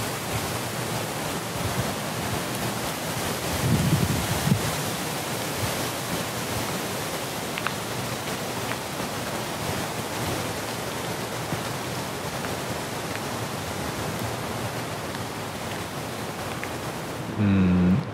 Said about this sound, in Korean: 이 대나무 이 잎들 사이로 부는 이 바람 소리만 들어도